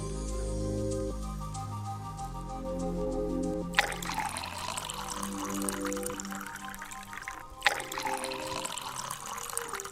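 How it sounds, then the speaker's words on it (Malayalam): A glass of water is poured into a cooking pan while making a kozhukatta filling, heard as a soft, steady gushing and splashing stream that starts a few seconds in and runs on, close and alone. "അത് ഞാനൊരു പാൻ എടുത്ത് അതിലോട്ട് ഒഴിക്കുന്നുണ്ട്"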